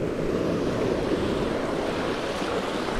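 Ocean waves washing ashore at low tide in rough water, a steady, loud wash of surf and wind noise with no pauses.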